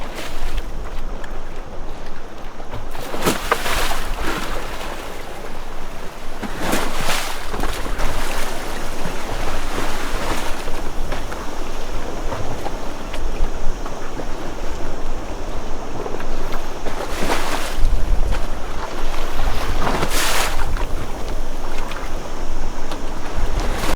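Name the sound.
waves and swell rolling into the anchorage around the boat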